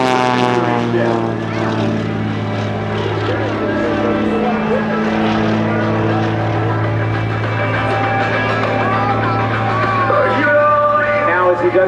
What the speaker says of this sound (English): In this case, Kyle Franklin does it in a 1940 vintage Waco